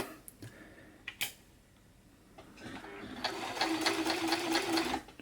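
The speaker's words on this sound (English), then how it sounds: "sewing the buttonhole itself" A Janome Combi two-in-one sewing machine stitches a buttonhole, a steady rapid mechanical whir after a few clicks and taps, close and fairly quiet, running for the last couple of seconds.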